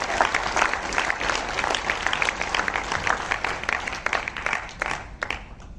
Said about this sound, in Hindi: एक बार आप लोग अपने लिए तालियां बजाएं।